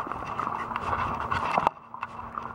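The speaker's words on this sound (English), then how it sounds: "this horse is slow like a rubber band." A horse walks slowly with a steady, close clip-clop of hooves that cuts off abruptly partway through, and quieter sounds follow.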